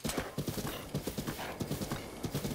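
A horse gallops in Zelda: Breath of the Wild, its hooves pounding in a fast, regular triple beat that stays close and loud throughout the short stretch.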